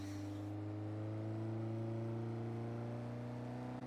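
A car engine in the Forza racing game drones and labors in a steady, sustained tone, as if stuck in one gear, with no talking over it.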